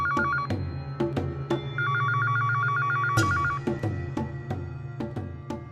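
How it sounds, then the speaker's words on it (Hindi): A telephone rings in repeated trilling bursts, loud and close, over a low background hum. "कुछ नहीं हुआ सोनू, सिर्फ फोन बज रहा है।"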